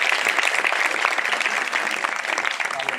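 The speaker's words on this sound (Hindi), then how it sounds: "मैं चाहूँगा जिंदा खुदा के लिए और उसके भेजने वाले के लिए जोरदार तालियां बजाएं।" A church congregation claps loudly and continuously in dense, enthusiastic applause filling the worship hall, close and sustained throughout.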